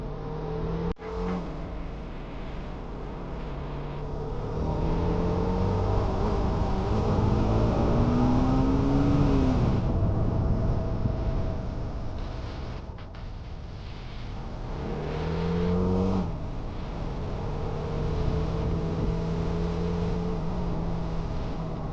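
A TVS Raider motorcycle revving, its engine note rising and falling in repeated swells over a long stretch, fairly close and loud with no talk.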